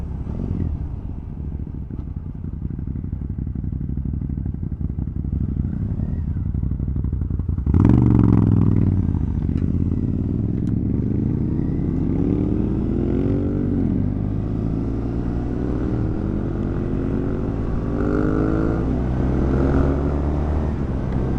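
A Moto Guzzi V7 II Sport motorcycle rumbles steadily while being ridden. The engine note jumps louder partway through, then rises and falls repeatedly through the gears with some wind noise.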